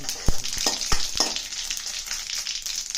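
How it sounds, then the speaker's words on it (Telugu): Tempering seeds for an onion, peanut and tomato chutney crackle and pop in hot oil with a constant sizzle, a few sharp spatters standing out near the start. "తాలింపు కోసం ఆయిల్ పెట్టి కొంచెం తాలింపు గింజలు వేసాము వీటిని వేగనిద్దాం"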